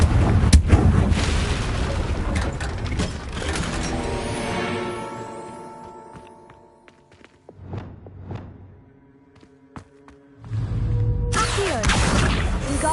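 Bombarda and Confringo spells blast in Hogwarts Legacy, with heavy booming impacts and debris crashing up close at the start, then fading into scattered clinks and thuds before another loud blast rumbles in near the end.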